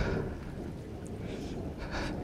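Thunder during a thunderstorm, a deep continuous rumble that rolls on throughout, loud and low, with no voices over it.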